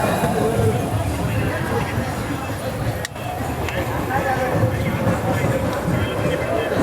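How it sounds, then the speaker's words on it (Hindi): Mumbai–Amravati Superfast Express 12111 pulls out of Thane station with a steady rolling rumble and rattle, under constant nearby crowd chatter and voices. "हमारी ट्रेन निकल रही है थाने से"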